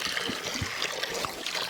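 Fresh, cold water pours and trickles steadily for farm animals on a homestead, a soft continuous splashing dribble close by with a few small gurgles.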